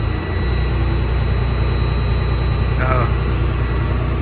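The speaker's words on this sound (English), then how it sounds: "The idle just kicked itself up." Car engine idling with a steady low hum and constant drone, its idle speed rising on its own partway through, heard up close from the cabin during dashboard repair.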